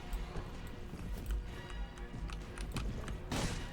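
Cavalry horses gallop in a rapid, continuous clatter of hooves in the video game Mount and Blade: Warband, moderately loud, with scattered clanks and crashes of battle mixed in.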